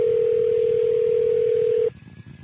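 A loud, steady telephone line tone holds for almost two seconds, then cuts off abruptly to a faint, thin residual tone over low line hiss.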